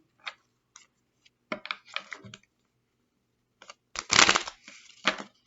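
Tarot cards being shuffled, heard as short, scattered bursts of crisp riffling and clicking that end in a louder, denser flurry, close up with no talk.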